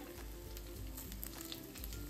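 Steady, soft sizzling of spices frying in hot oil in a wok, continuous and close, with faint crackles throughout.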